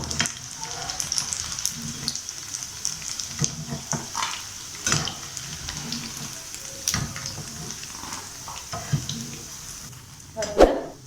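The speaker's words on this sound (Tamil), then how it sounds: "நல்லா பொரிஞ்சு வந்துச்சு முட்டை" Pieces of Egg 65, masala-coated egg, fry in hot oil with a soft, continuous sizzle, broken by occasional scrapes and stirring clatters of a utensil in the pan.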